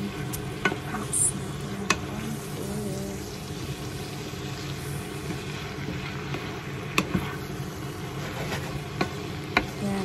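Yakisoba noodles with oyster sauce are stirred in a hot pan, the soft sizzle broken by a few sharp utensil scrapes and clicks against the metal, with no talking.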